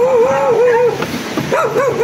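A dog gives a wavering, high whining howl, close by, fading briefly before a second warbling cry.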